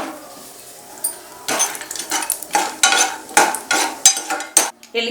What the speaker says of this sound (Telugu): జీడిపప్పు మూడు టేబుల్ స్పూన్ల వేసుకుని వేయించుకోవాలి నెయ్యిలో